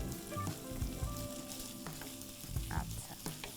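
Shrimp and chicken fry together over high heat in a pan for mixed fried rice, with a continuous close sizzle broken by clattering stirs, under faint background music.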